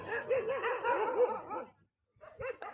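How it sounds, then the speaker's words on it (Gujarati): A pack of street dogs barks and yips in a busy overlapping burst, fairly close, then falls quiet before a shorter flurry of barks returns. "આખી ગેંગ ભેગી થઈ છે ડોગેશભાઈ ની."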